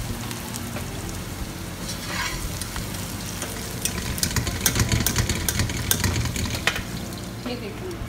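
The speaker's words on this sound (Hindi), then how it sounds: "ये देखिए अब हम ये गोश्त डाल के इसमें फ्राई करेंगे इसको" Lightly browned vegetables and then pieces of meat fry in a pan, a continuous sizzle with clattering stirring that grows busier partway through and a low hum beneath.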